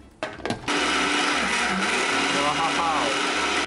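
After a couple of brief knocks, a blender starts grinding a mixture with olive oil. Its loud, steady whir runs close up to the end, and a voice is heard briefly.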